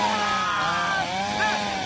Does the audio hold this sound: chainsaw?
yes